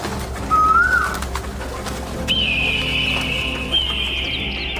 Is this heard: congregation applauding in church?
no